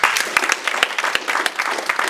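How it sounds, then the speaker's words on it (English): A conference audience at a session on clean cooking technologies applauds with a brief burst of steady, moderately loud clapping. "Let's give another round of applause."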